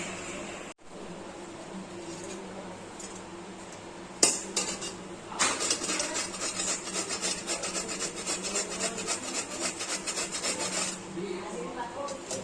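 A coconut is grated by hand for chutney, making a rapid rhythmic rasping scrape that starts after a few quieter clinks and continues steadily up close.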